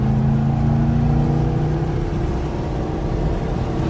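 Race car accelerating smoothly on a circuit, heard from inside the cockpit during a ride-along, with a steady, close, loud engine hum and rising harmonic tones as throttle is added.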